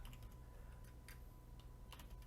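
Someone types a layer name on a computer keyboard for a Photoshop inking project, producing a few faint, scattered key taps in quick clusters over a low steady hum, with no speech.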